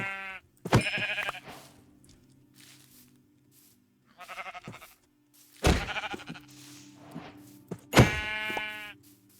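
Sheep bleat in a video game, three separate calls spaced across the clip, clear and fairly loud over a quiet steady background hum.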